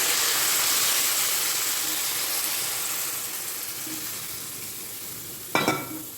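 Water poured onto potato and pumpkin frying in a pan bursts into a loud, broad hissing sizzle that slowly fades, ending with a brief clatter near the end.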